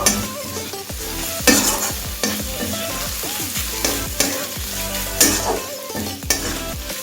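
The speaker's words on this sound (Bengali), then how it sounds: "নারকেলটাকে একটু ভেজে নেব।" Grated coconut fries in a pan while a spatula stirs it, giving a loud, busy sizzle with repeated scraping and clinking strokes throughout.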